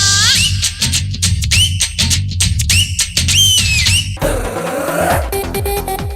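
Loud, piercing whistles rise and fall in rapid repeated bursts over a steady musical background, ending in a noisy, crowded burst of sound.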